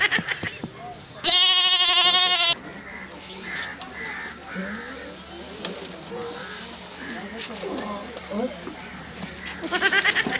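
A goat gives one loud, close, wavering bleat lasting about a second, set among people talking and quieter rustling, with another short bleat-like call near the end.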